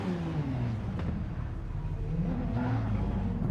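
An Aston Martin in Gran Turismo 7 races on cold, dirty tyres, its engine a steady droning rumble with shifting pitch, held loud and continuous throughout.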